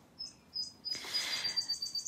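Small birds chirp outdoors in quick repeated high tweets, some overlapping, fairly faint and a little distant, with a brief rustling burst in the middle and no talking.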